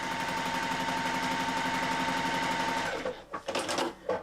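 Sewing machine stitching a seam on a cute bag, running steadily and loud for about three seconds before stopping, followed by a few short handling rustles and bumps nearby.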